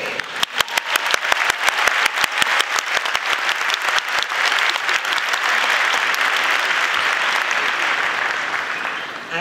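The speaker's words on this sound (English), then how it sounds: "Graduates, please join me in a round of applause" A graduation audience at JWU begins with a handful of sharp, separate claps that quickly build into loud, dense, sustained applause from a large crowd, which eases slightly toward the end.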